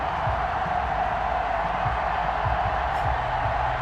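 A Madden 21 stadium crowd roars in a dense, steady wall of cheering before the New Orleans Saints take on the Chicago Bears, with no lulls.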